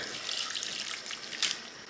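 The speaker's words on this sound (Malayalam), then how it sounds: "ഒരു 3/4 കപ്പ് വെള്ളം എടുത്തിട്ടുണ്ട്, അത് ഒഴിക്കുകയാണ്" Water, about three-quarters of a cup, pouring steadily into a pot of lentils and banana stem at close range, a continuous hissy splash with a brief louder surge near the end.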